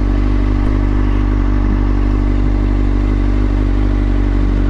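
A motorcycle engine runs during a downshift. It gives a loud, close, steady low drone with a dense mechanical whir and no sharp rise in pitch.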